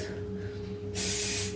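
Hairspray hisses from an aerosol can onto hair in one steady, close burst that starts partway through after a quiet lead-in.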